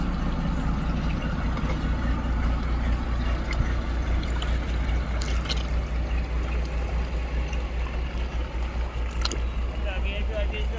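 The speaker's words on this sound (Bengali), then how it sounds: "ক্যানিং লাইনের বোট যাচ্ছে।" A Canning line passenger boat passes on a Sundarbans river, its engine a steady low drone with water wash, while voices are faintly heard over it.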